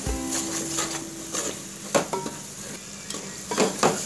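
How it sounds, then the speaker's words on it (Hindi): Spices, kitchen king masala and turmeric, sizzle in a pan as they are stirred, with a soft frying hiss broken by several clinks and scrapes of a spoon against the metal. "अब इन सबको हम अच्छे से मिक्स करेंगे मसालों को"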